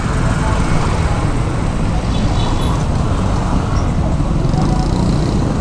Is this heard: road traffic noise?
yes